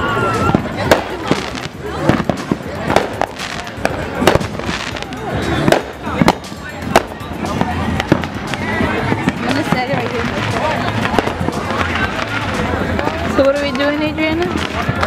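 Fourth of July fireworks and firecrackers being set off outdoors, a rapid string of sharp loud bangs and crackles at first, then a dense continuous crackling, with people talking and shouting throughout.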